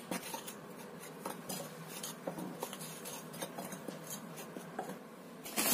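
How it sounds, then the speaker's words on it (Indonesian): A spoon scrapes and clinks steadily against a bowl while stirring a tapioca flour mixture with seasoning, a continuous rubbing and tapping rhythm heard close and alone. "Kita aduk lagi sampai tercampur rata."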